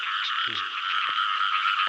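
Frogs croak in a dense, continuous chorus at a rice-field trapping spot, joined by a few louder nearby calls.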